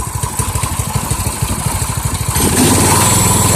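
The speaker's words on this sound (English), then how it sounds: "it took a few pulls to get the gas to it, but we've got ignition" A Harbor Freight Predator engine fitted to a vintage sickle mower fires up and runs close by, a loud, steady rapid chugging that thickens and rises slightly toward the end, with no talking.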